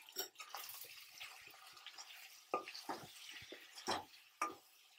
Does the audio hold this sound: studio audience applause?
no